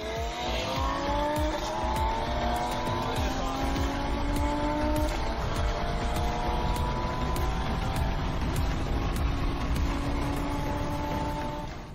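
An Audi RS3 accelerates hard at high speed, its engine note climbing through several gear changes in a loud, sustained roar heard from close by.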